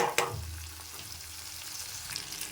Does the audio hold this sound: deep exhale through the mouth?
no